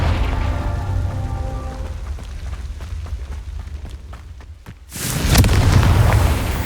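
Confringo blasting spell detonates in Hogwarts Legacy: after a stretch of rumbling combat noise with sparse cracks, a sudden loud, broad explosive burst hits and its roaring, crackling tail sustains to the end, close and heavy.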